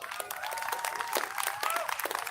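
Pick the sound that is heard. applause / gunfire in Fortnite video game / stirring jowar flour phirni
applause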